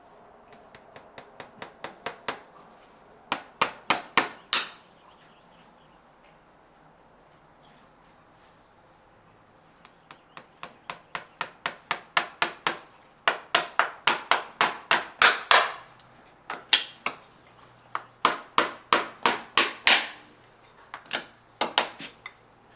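Capewell Slim Blade 5 Endura horseshoe nails are driven into an eventing horse's hoof with a hammer, bursts of sharp metallic taps quickening in runs of eight to twelve, separated by pauses, close and clear.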